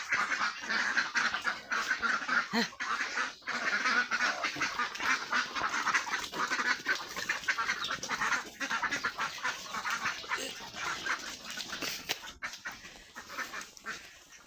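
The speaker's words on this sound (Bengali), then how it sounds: "প্রতিদিনের মতনই হাঁস পানিতে চলে গেল" A flock of ducks quacks continuously as they head into the water, a dense chattering chorus of many overlapping calls at moderate distance that fades slightly toward the end.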